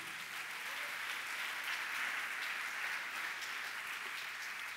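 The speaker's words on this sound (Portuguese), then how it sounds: "Aleluias, aplauda ao Senhor," A church congregation applauds during a Sunday service, a dense, steady wash of many hands clapping at moderate distance that holds evenly throughout with no break.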